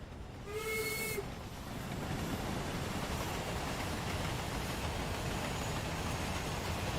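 Steam locomotive in Train Sim World 2, on the Spirit of Steam rail tour, passing a platform at speed: a short whistle blast opens, then a loud, sustained rushing roar of the train running through fills the rest.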